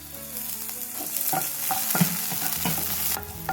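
Crushed garlic and chopped green chilies hit hot oil, making a close, continuous sizzle with repeated spatula scrapes and knocks against the pan as they are stirred, and no talk.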